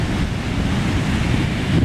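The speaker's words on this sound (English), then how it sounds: "See, the waves are pretty strong." Strong surf at Hanna Park beach in Jacksonville, Florida, near the St. Johns River inlet: a loud, continuous rumbling wash of breaking waves mixed with heavy wind buffeting the microphone, with no voices.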